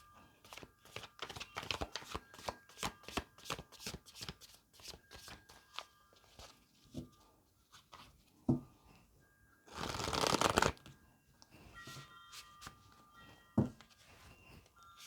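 A tarot card deck is shuffled in rapid riffling bursts, a close, dense run of crisp card flicks with brief pauses, one louder rustling flurry partway through and scattered taps of the cards settling.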